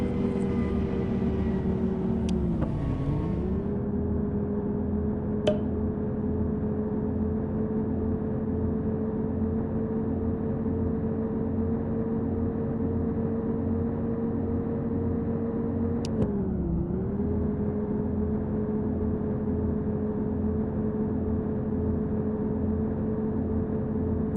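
A bus retarder braking in Bus Simulator Ultimate gives a steady low engine-like drone with a tonal hum that dips in pitch twice as the braking engages, loud and continuous with a few faint clicks and no talk.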